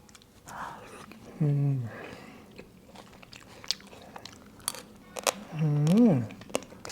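Someone chewing a bite of spicy stir-fried frog, with close, wet crunching and biting sounds broken by two short hummed vocal sounds of appreciation.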